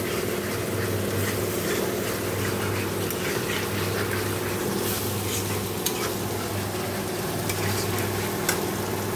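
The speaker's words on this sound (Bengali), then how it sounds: "তো মশলাটা ভালো করে কষে নেব।" A spice masala of onion, tomato, chilli, ginger-garlic paste, cumin, coriander and Kashmiri chilli powder fries and is stirred in a pan, with continuous loud sizzling and repeated scraping strokes throughout and a low steady hum beneath.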